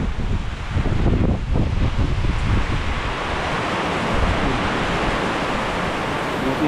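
Strong wind roars steadily and loudly across an open outdoor spot where tents are pitched, buffeting the microphone in a dense, continuous rush throughout.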